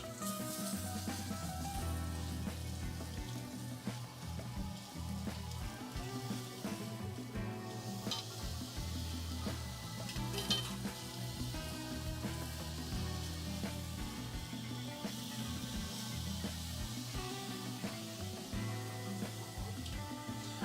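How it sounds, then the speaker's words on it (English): A constant whooshing hum of a fan runs steadily throughout at moderate, even loudness with no pauses. "We're going to turn the fan on higher, which may be a bit noisy."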